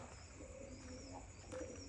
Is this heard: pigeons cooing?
yes